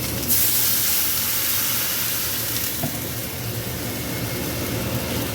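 Water poured into a hot pan of frying spices sends up a loud, continuous hissing sizzle and steam spray, close and steady for several seconds.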